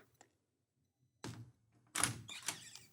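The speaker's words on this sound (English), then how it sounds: "Here's a pre-made glass door open sound." A pre-made sound effect of a glass door opening: a tiny click, a pause, then a soft thunk followed by a brighter rattling burst, quiet and isolated with no voices.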